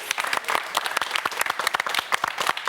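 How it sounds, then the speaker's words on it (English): A studio audience at a motorcycle show applauds, a close, steady burst of many hands clapping with crisp individual claps throughout. "Round of applause, please."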